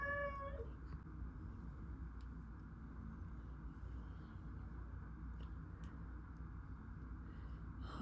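A pet cat lets out a short, clear meow right at the start, followed by several seconds of steady low room hum with no further calls.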